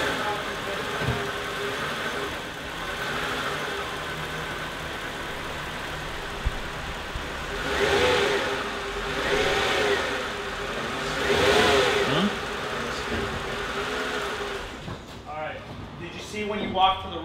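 A car engine revs in two rising and falling swells over a steady running hum, loud and close, with people talking throughout.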